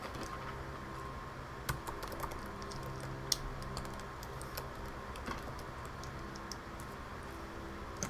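Quiet keyboard typing at a computer, scattered soft key clicks and occasional sharper taps over a faint background hum, with no talking.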